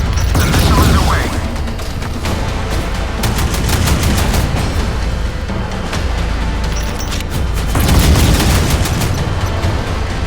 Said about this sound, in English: The missile is away.